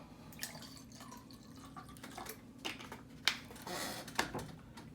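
Water poured into a large glass for homemade lemonade, heard as faint close splashing and dripping trickles with a few brighter splashes near the end.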